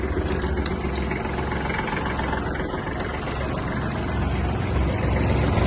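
A Kubota GL-260 mini tractor runs at full throttle with its driveshaft and mower blades turning, giving a loud, steady, close engine drone that holds evenly throughout with no talking.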